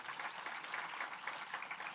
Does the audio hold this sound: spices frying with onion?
no